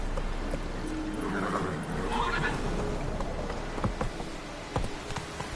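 Roach the horse in The Witcher 3 gives a short neigh over a busy game soundscape of hoofbeats and rain-like noise, with a faint voice nearby.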